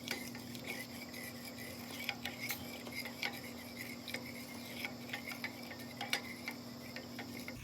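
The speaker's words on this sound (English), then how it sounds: "And I'm gonna keep stirring." A metal spoon stirs sugar solution for rock candy, light repeated clinks and taps against the container over a steady background hum, fairly quiet and with no talking.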